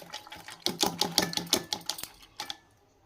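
Eggs are beaten with salt and pepper for an omelette, producing a rapid series of sharp, close tapping clicks of a utensil against a bowl. The beating comes in an irregular rhythm and then fades out.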